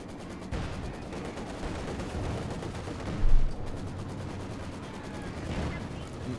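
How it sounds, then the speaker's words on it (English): In Company of Heroes 2, a light infantry gun fires on a Maxim machine gun position. Shots and battle noise come in a dense, continuous din, with one louder thump in the middle and a commentator talking over it. "Light gun firing down the Maxim."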